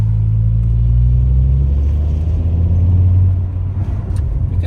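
Audi RS6 V10 idling with an abnormal mechanical noise under a steady, loud low engine rumble that eases slightly toward the end, no voices.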